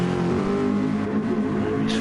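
Race cars in a racing game on a Kyoto circuit make a steady, loud engine drone that holds throughout, with no speech over it.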